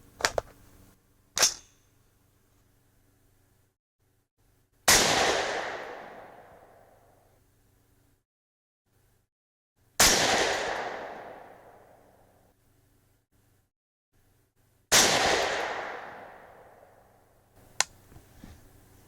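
Three loud .308 Winchester rifle shots with 168-grain Sierra MatchKing or Hornady Match ammunition through an AR-Comp muzzle brake, spaced about five seconds apart, each a sharp blast with a long echoing decay, plus a few small clicks, no talking.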